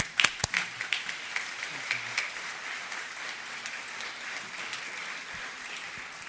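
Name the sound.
audience applause for speaker introduction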